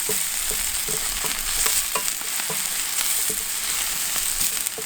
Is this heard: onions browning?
yes